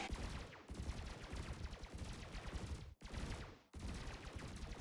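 Five stock unmodded gimbaled burst lasers firing in Elite Dangerous, two class 1, two class 2 and one class 3, a continuous loud stream of rapid pulses broken by two brief pauses.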